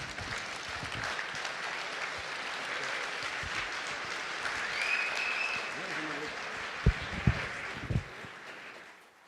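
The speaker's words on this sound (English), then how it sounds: "perhaps we will give a real live Jewish hero a standing applause" A conference audience at the Jerusalem Post Annual Conference gives a Holocaust survivor a standing ovation: sustained, moderately distant applause for about nine seconds, mixed with crowd voices and a few sharper claps near the end.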